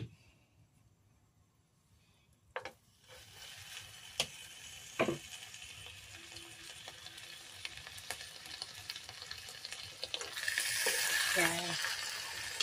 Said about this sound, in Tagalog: Ipa-fried ko siya na wala siyang oil.